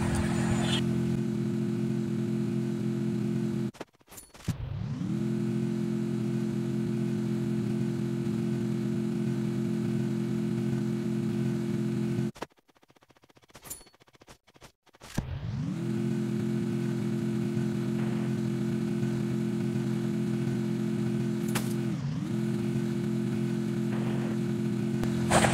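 Car driving in a mobile battle royale video game, a steady droning engine hum that cuts out twice and restarts, with a brief pitch dip as it shifts, running loud and continuous alone.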